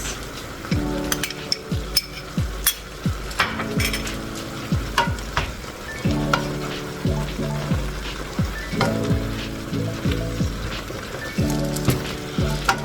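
Shrimp and vegetables stir-fry in a pan, a loud, close sizzle broken by repeated clanks and scrapes of the utensil stirring and tossing the food, with no speech.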